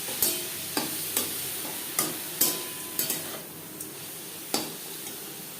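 Red amaranth greens cooking with peanuts and lentil dumplings in a pan over a gas flame, a soft continuous sizzle punctuated by a series of sharp spatula taps and scrapes against the pan.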